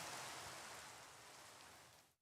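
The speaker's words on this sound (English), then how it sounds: "All right, I hear rain." Faint, steady hiss of rain in Minecraft, continuous and even, cutting off abruptly at the end.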